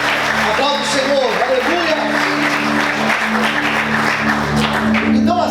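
A church congregation claps loudly during a sermon, with continuous clapping and voices over a steady musical hum.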